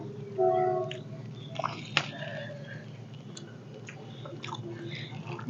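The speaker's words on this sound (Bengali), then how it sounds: "মাছটা খেয়ে দেখি" Someone up close chews a mouthful of aar fish kaliya, a Bengali fish curry, with soft, moist mastication and a faint bite or two over steady background hum.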